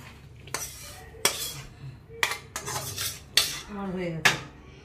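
Mashed banana stem scraped out of a metal cooking pan, a series of sharp clanks and scrapes of a spoon against the pan at irregular intervals, close and otherwise quiet.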